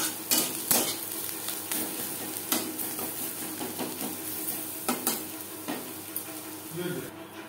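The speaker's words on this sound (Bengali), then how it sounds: "পেঁয়াজ ভাজা হয়ে এসছে, দিয়ে দেবো সামান্য পরিমাণে হলুদের গুঁড়ো" Onions frying in mustard oil with a pinch of turmeric in a kadai, giving a continuous close sizzle broken by repeated spatula scrapes and metal clinks against the pan.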